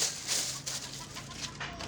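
Native chickens clucking softly in short bursts, with faint bird calls mixed into steady outdoor background noise.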